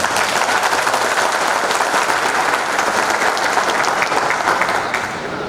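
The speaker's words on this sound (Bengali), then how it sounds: "পার্টনারদের উদ্দেশ্যে আমি জোরে করতালি আশা করি" Loud, dense applause from an audience at a partner meet closing ceremony, steady clapping throughout before tapering slightly at the end.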